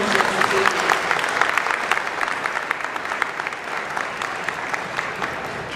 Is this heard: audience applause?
yes